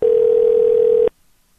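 A telephone call's ringing tone: one steady, loud electronic burst lasting about a second, then it cuts off into near silence.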